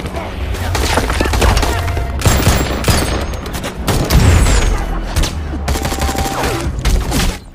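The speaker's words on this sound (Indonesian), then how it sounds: "Bishop, Sugar, dan Cooper kemudian melakukan baku tembak dengan para teroris yang mulai bermunculan dari segala arah." Film shootout with terrorists: dense, loud bursts of automatic gunfire and heavy thumps roll on almost without pause, layered with booming low-end impacts.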